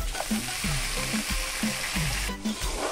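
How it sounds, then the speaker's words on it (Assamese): Lentils fry with garlic and ginger in a pan. A steady close sizzle runs under rhythmic scraping as the mixture is stirred about twice a second, and no one speaks. "মই লৰাই দিলোঁ, অলপ ফ্ৰাই হৈ লওক।"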